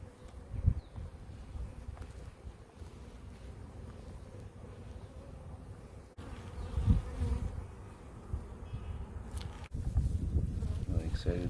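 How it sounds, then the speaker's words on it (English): Italian honeybees from an open hive, a steady close buzzing drone with occasional louder passes and breezy microphone rumble. "Look how calm these bees are."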